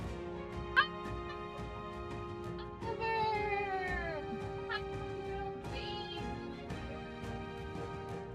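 A dog character in the video game Metaphor: ReFantazio makes soft, whining, yelping calls over steady background game music, fairly faint and heard without talking.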